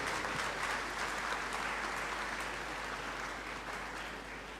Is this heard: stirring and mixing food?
no